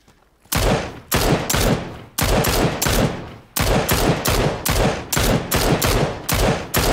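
Bursts of automatic gunfire from a PUBG match ring out loud and close, in repeated rapid volleys separated by brief pauses, with no talk over them.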